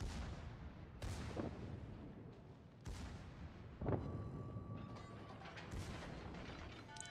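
Secondary guns on the battleship Scharnhorst fire in a naval video game, several sharp booming reports in an irregular series over ongoing mechanical clatter and rumble, with a loud close blast near the middle.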